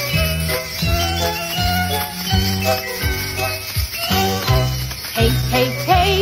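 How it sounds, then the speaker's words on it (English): Sleigh bells jingle through a bouncy Christmas children's song, a bright continuous shimmer riding over a steady, repeating bass-and-beat groove. "Sleigh bells jingle and they sound this way."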